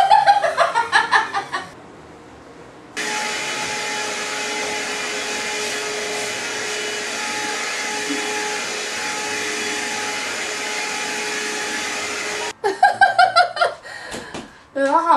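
An electric nail machine runs with a steady, loud mechanical whir for about ten seconds, set between bursts of laughter and talk before and after.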